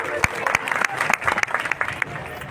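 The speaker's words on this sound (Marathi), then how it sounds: "आपणही त्यांचं टाळ्या वाजून स्वागत करूया" Audience applause welcomes the committee and Shiva organisation volunteers at an Akhand Shivnam Saptah gathering in Sambhajinagar: a brief burst of clapping from a crowd, with a voice carrying over it.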